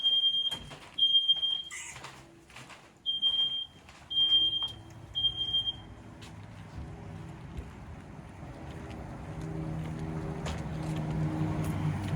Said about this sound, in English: So our smoke detector is going off.